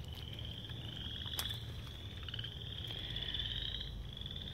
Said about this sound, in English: And the frogs are singing in the pond,